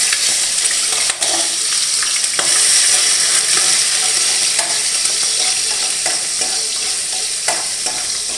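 Prawns frying in hot oil, a loud continuous sizzle and crackle with occasional stirring clicks, close up and without talk.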